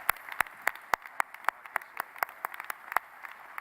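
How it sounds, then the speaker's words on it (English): A modest handful of summit attendees clap for the event's organizer, with sparse, separate claps sounding at an uneven rhythm, fairly faint and alone in the room. "I think we owe him a great hand of applause"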